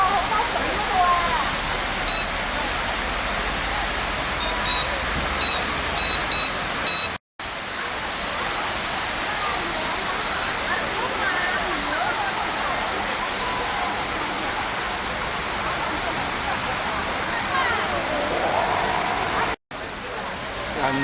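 A water feature at Guangzhou Book City rushes continuously in a loud, dense wash, with the murmur of a busy crowd mixed in and two brief dropouts.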